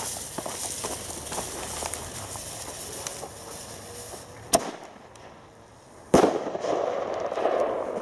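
A Nico Flashbang firework goes off as two sharp, loud bangs about a second and a half apart, set against outdoor background noise, the second followed by crackling debris.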